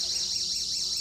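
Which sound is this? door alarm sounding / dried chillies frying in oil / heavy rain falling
door alarm sounding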